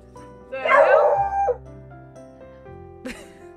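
A dog gives a loud, drawn-out howling bark with a yip and whimper, then a short second yelp, with music in the background.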